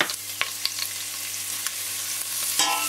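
Bacon dropped into warm oil in a large pot for a leek, cheese and mince soup, a soft steady sizzle with a few sharp spatters and clicks, close by and without talk.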